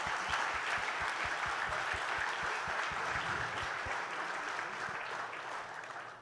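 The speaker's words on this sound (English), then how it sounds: "So a round of applause for our class of 2025." Applause for the Canadian Horse Racing Hall of Fame class of 2025 at an induction gala: sustained clapping from a hall audience, with steady low thumps through the first few seconds, gradually easing toward the end.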